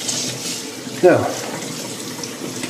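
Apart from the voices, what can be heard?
rinsing dishwasher filter under running tap water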